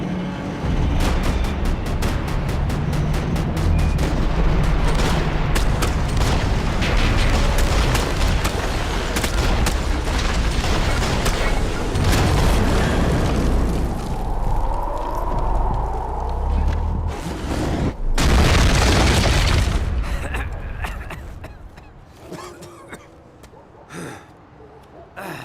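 Rapid gunfire in the Max Payne 3 video game, dense bursts of shots over a loud, busy mix of in-game action that carries on for most of the stretch before thinning out near the end.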